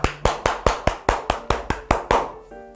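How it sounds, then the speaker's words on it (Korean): Applause for everyone who finished the Bible-study problems in a church online Psalms course: about ten sharp, evenly spaced claps from one nearby person, then a short tonal chime at the end, with no talking. "수고하신 모든 분들께 수고의 박수 하도록 하겠습니다"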